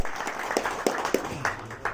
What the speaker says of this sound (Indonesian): Jadi saya minta tolong semuanya tepuk tangan ini